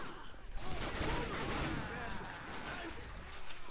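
Sustained gunfire as survivors kill the Tank in a Left 4 Dead 2 versus match, a dense, continuous barrage of overlapping shots running loud throughout with no letup.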